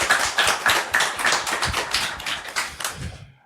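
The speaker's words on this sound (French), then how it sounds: "On peut les applaudir." A small group claps for podcast guests in a modest room, a quick, sharp patter of hand claps lasting a few seconds and then fading to silence.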